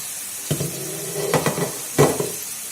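Frozen fish frying in a pan, a soft steady hiss broken by a few sharp spits and clatters of the pan, heard close with no talking.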